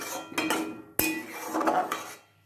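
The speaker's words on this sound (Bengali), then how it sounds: "এবার এটা একটু ভালো করে নাড়াচাড়া করে" Veg momo filling being stirred in a pan after sugar is added, with close metal utensil scrapes and clinks against the pan in irregular strokes, one sharp knock standing out.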